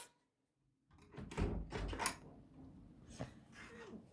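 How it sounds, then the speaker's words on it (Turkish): A door in a home is opened after a moment of near silence, bringing a cluster of clunks and rattles of the handle and frame, then a further knock and shuffling, fairly close. "Dur açayım kapıyı."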